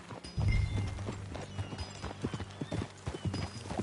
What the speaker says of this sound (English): Let's ride.